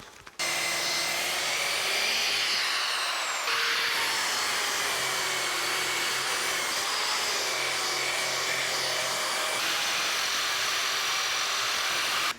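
A high, whining angle grinder with a wire brush runs continuously up close after a sharp start, its pitch dipping and rising slightly as it bites into metal on a military chest with a gritty hiss.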